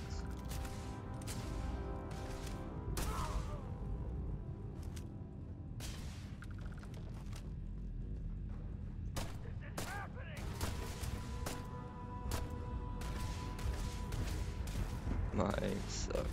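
Heavy single hand cannon gunshots from the video game Starfield boom at irregular intervals, spaced by a second or more, over a steady low rumble with occasional voices.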